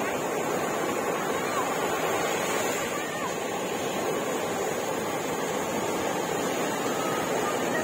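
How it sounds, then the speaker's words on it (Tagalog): Big ocean waves surge and crash in a continuous broad roar, with wind buffeting the microphone. "ang laki ng alon"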